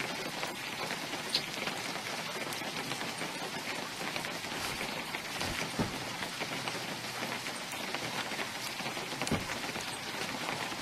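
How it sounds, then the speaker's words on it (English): Steady rain pours in the survival game Unturned, a dense continuous hiss of drops pattering on surfaces that stays even and fairly close throughout, with no voices. "This rain is so cold."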